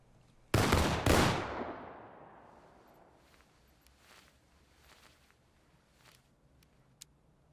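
A rifle volley ripples out in the War of Rights video game, a loud crackling burst of many shots in quick succession with an echoing tail that fades over several seconds, followed by faint rattles and clicks.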